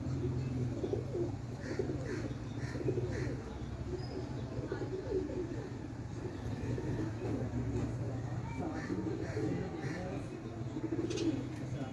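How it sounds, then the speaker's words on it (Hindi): A Teddy pigeon coos softly in a home loft, low rhythmic rumbling coos repeating through the clip, with someone talking over them. "दोस्तों ये एक कबूतर है मेरे पास सेठ वाला"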